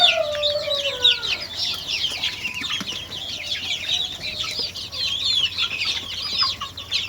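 A flock of chickens clucks and chatters continuously, busy overlapping calls at steady loudness, a longer tonal call at the start, nearby with no voices.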